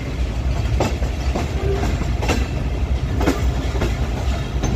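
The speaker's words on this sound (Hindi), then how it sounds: "ट्रेन आहिस्ता आहिस्ता अपना मोमेंटम कैप्चर करते हुए" The TezGam Express passenger train pulls slowly out of the Lahore rail yard, a loud continuous rumble with rhythmic clickety-clack wheel beats over the rail joints, heard from on board without any voices.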